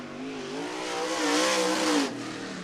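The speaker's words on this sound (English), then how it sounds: "as he is the 7th car to hit the track" A late model race car engine drones steadily during qualifying at a speedway, rising in pitch as it accelerates past, then drops away, heard at a moderate distance with no talking.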